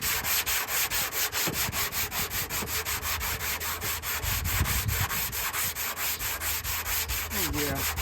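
Hand sanding a passenger-side body panel of a 1987 Toyota Supra MK3 with 120 grit sandpaper gives a steady run of rhythmic rasping back-and-forth strokes, close and even, with no talking.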